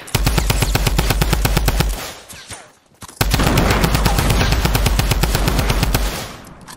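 Sustained automatic gunfire from the Fortnite video game hammers away in two long, dense bursts separated by a brief gap, loud and close with no talking.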